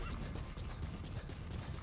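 Horse hooves clip-clop in the video game Metal Gear Solid V: The Phantom Pain, a quick, even, rhythmic trot that runs through the whole moment at moderate, steady loudness with no talking.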